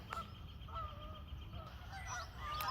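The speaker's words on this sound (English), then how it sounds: "Here's some geese out there in the distance. Here they come overhead." Geese honk faintly overhead during spring migration along the Mississippi over an Iowa sand prairie, several distant calls scattered over a low outdoor rumble.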